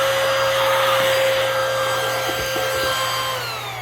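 A Eufy HomeVac H11 handheld vacuum runs close by with a loud, steady whine and motor drone, its pitch sliding slightly as it begins to wind down near the end.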